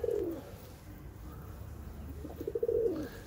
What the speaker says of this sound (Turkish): Afrika kökenli sıcağı seven güvercinlerimiz arkadaşlar.